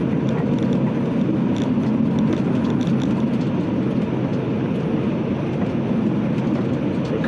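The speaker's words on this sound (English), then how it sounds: "The biggest sound that I'm hearing is from the differential in the rear because it's uncovered right now." The uncovered rear differential of a 1975 Volvo 164 converted to electric drive gives a constant, loud drone and rumble while the car coasts in fourth gear at about 70 km/h, with no pauses and no voices.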